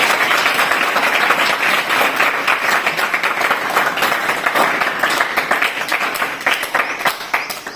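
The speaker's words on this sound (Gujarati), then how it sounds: "આપણે તાળીઓથી આ દાતાને એક વખત વધાવી" Dense, sustained applause from a crowd honoring a donor at a student encouragement event, steady and fairly loud throughout, with many overlapping claps and no speech.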